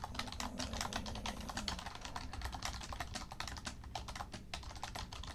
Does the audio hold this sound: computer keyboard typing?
yes